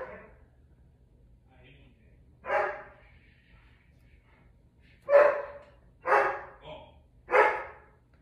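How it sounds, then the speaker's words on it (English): A German Shepherd dog barks indoors in four separate loud barks with long gaps between them. The third and fourth barks come close together. "That's my dog. He barks all the time."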